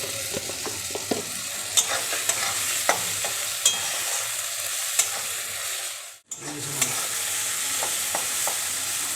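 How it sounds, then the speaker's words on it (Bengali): Onion, garlic, green chillies and red chilli powder fry in a pan for dal makhani, giving a steady close sizzle punctuated by regular spatula scrapes and clicks, with a brief pause near the end. "আমার পেঁয়াজ রসুন সমস্ত উপকরণ ভালোভাবে ভাজা হয়ে গেছে"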